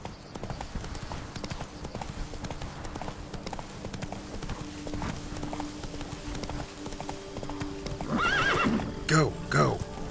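In The Witcher 3: Wild Hunt, a horse gallops with steady, rapid hoofbeats throughout and neighs near the end, while a man urges it on.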